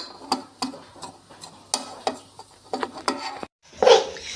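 Gram flour (besan) roasting in a pan while being stirred for mawa barfi, with sharp scraping strokes in a steady rhythm about every third of a second, a brief pause, then a louder scrape at the end.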